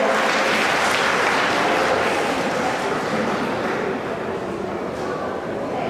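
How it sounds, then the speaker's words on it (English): A school audience at a college talk on interview skills breaks into sustained applause, a thick, even clatter of clapping that stays strong and fades only a little toward the end. "Give Peter and Leon a big round of applause."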